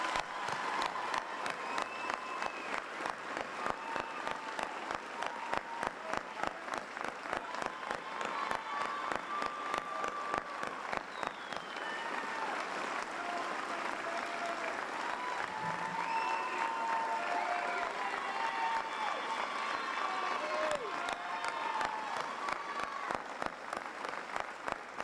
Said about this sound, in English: you heard those applause, right?